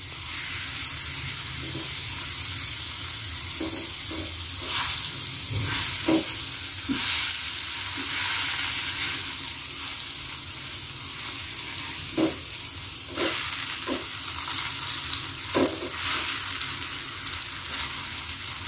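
Steady sizzling and hissing of banana frying in margarine in a pan, with occasional soft stirring scrapes, continuous throughout.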